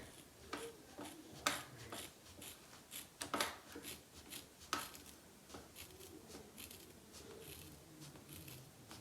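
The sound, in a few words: scissors cutting a doll's hair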